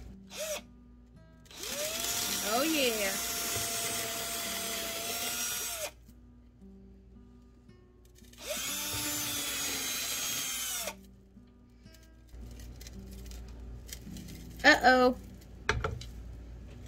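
A power drill whirs in two separate bursts of a few seconds each, close by, with quiet handling noises and a couple of knocks afterward.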